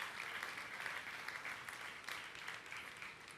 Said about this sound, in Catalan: Això, un aplaudiment per ells.